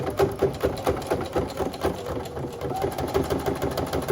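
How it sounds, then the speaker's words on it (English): Sewing machine stitching a reusable shopping bag at a slow pace, a close rhythmic motor whir with rapid needle clatter running steadily throughout, no talk. "I'm going to put my foot down, and I am going to start sewing"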